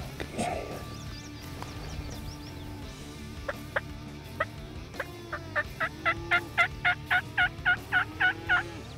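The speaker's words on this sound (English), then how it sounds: "we heard a bird gobble" A wild turkey gobbles on a ridge during a spring hunt, distant and fairly faint, in a quiet outdoor setting. A few scattered calls come first, then a rapid, evenly spaced run of repeated gobbling pulses.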